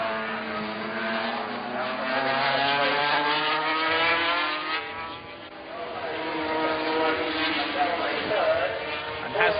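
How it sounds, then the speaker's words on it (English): 500cc superbikes from 1984, including a works three-cylinder Honda, race past with rising and falling engine whine and gear changes, somewhat distant and thin, under continuous commentary. "Haslam making tremendous use of the Works 3-cylinder Honda."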